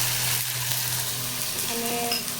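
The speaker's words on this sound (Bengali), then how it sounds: "এই যে এখানে মশলাটা কষাই" Spices frying in oil in a pan for a Bengali fish curry, a steady close sizzle with a low hum and a faint tone near the end, no voices.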